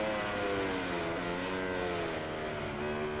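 A Ducati motorcycle engine in MotoGP 20, a loud sustained high-pitched whine that holds steady and rises slightly as the rider accelerates out of a corner, with no voices.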